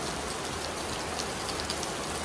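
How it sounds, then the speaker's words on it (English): Steady rain falls on a beach in Jamaica, a dense, even hiss of drops spread across the whole clip without pause, fairly close and continuous with no voices. "Rain on the beach."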